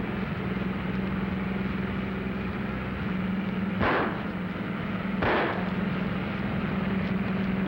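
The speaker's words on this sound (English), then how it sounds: "They're shooting." Gunshots fired at a car ring out as two sharp bangs about a second and a half apart, over a steady engine rumble in an old film soundtrack.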